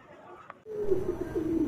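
A pair of Mukhi pigeons cooing close by, a low, sustained throaty coo that starts after a brief quiet moment and continues steadily to the end.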